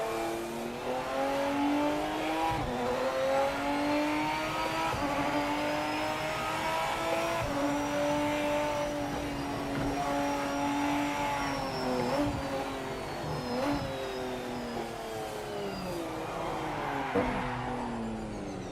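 A race car engine in the Project Motor Racing video game drones and revs continuously, the pitch rising and falling through gear changes with occasional tire squeal, loud and steady throughout.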